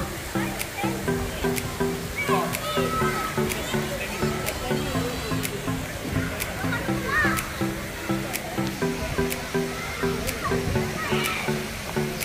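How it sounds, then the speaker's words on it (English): Water splashes and pours at the aqua play children's playground of the Lotus Desaru water park, a steady close wash of sloshing water under a repeating electronic tone and a voice talking. "So ito po yung water park ng Lotus,"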